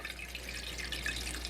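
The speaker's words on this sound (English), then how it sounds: "I suppose I should put water in there first" Water pours into a cooking pot being readied to steam rabbit belly, a short bright splashing trickle at steady level with no talk.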